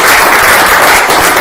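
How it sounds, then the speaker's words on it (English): Applause from an audience at a fireside chat speaker event, a dense, loud, continuous wash of clapping with no talk over it. "Can we give him a round of applause?"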